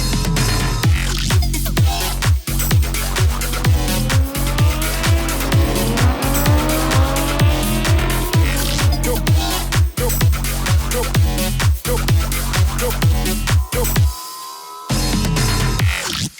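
A 2023 BMW M1000RR superbike circuit lap at Donington Park: a loud, continuous high-revving engine climbs through repeated rising sweeps with rapid pulsing, then drops off briefly near the end before picking up again.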